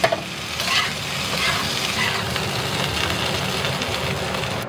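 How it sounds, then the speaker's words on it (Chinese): Frog legs and spring onions being stir-fried in a wok make a steady, loud sizzle, with scraping and tossing sounds running through the whole stretch. "我们就倒入这个葱段哈，然后给它翻炒个几下就可以出锅了"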